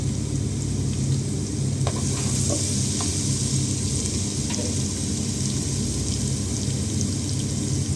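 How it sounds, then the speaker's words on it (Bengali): Chopped garlic hits hot oil in a pan for a bitter gourd fry, giving a steady, loud, close sizzle that holds without a break, with a few faint clicks of stirring and no voices. "তেলটা যখন গরম হয়ে আসলো তখন দিয়ে দিলাম চপ করা রসুন"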